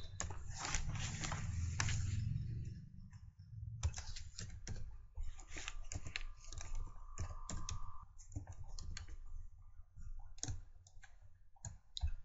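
Code for a WordPress function is typed on a computer keyboard, with rapid irregular key clicks close by, bursts and short pauses over a low steady hum.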